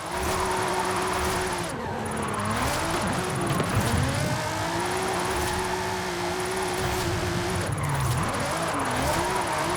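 A rear-wheel drive car races through tight turns in Forza Horizon 5, its engine droning loud and steady, pitch dipping and climbing as it brakes and revs out of corners, with tires scrubbing underneath.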